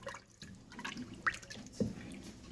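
Water being added into a pot for beef nihari, a few soft drips and small splashes landing in liquid, quiet and close, with faint room background and no talking.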